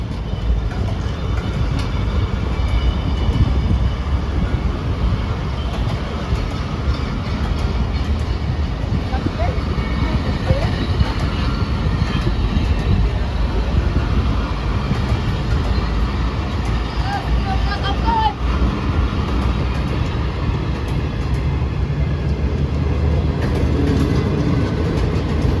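Hazara Express passenger train hauled by an HGMU 30R locomotive, number 8209, near Drigh Road railway station in Karachi, a continuous heavy low rumble of rolling wheels and carriages that stays loud and steady throughout, close by.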